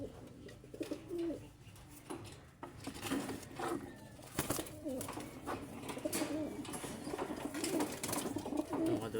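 Soft, repeated pigeon coos murmur through a busy, rustling background while pigeons are fed vitamins, with occasional scuffs and faint voices nearby.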